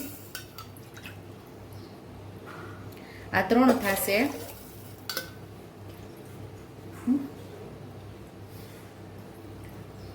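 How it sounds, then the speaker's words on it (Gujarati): A bowl of water is poured into a pot of tuvar dal khichdi in a home kitchen, making one brief, close splashing pour. A faint clink follows later, and a person talks quietly throughout. "સાડા ત્રણ વાટકી જેટલું પાણી ઉમેરશું"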